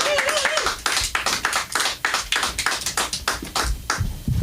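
A comedy club audience claps for a comedian being introduced on stage, a dense run of sharp hand claps going steadily for several seconds, loud and close, with a brief voice at the start.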